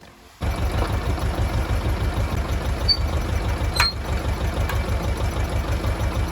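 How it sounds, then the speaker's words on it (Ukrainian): A tractor engine starts and settles into a loud, steady rhythmic idle close by, its low chugging pulse continuing throughout. "Тому зараз заводю трактор"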